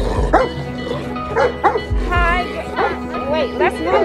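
A dog barks in repeated sharp yips and bow-wows during a friendly greeting indoors, close and loud, with people talking over it.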